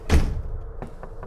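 A door being knocked on in the horror video game From the Darkness: one heavy thud, then three lighter knocks spaced evenly, close and clear with no talking.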